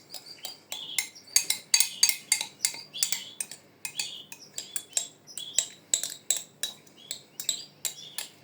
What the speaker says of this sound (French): Alors ensuite, on remue bien tout ça. On va bien tout remuer.